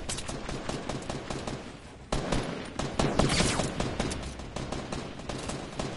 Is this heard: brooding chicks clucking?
no